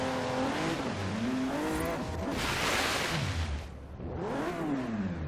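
A supercharged Jaguar F-Pace in Forza Horizon 3 revs and roars loudly through gear shifts, pitch climbing and dropping repeatedly, with a throaty exhaust rumble throughout.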